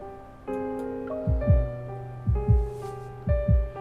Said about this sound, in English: The sound of my heartbeat is amplified in my ears.